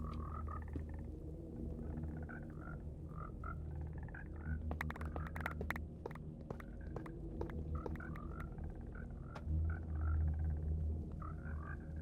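Frogs croak repeatedly in Minecraft, short mid-pitched calls recurring through a steady game backdrop with low drones and a few sharp clicks, moderately loud and without speech.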